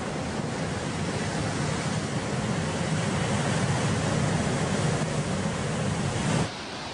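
Massive storm waves crash continuously against an island shore, a dense, loud roar of surf and wind that drops off abruptly near the end, with no one speaking.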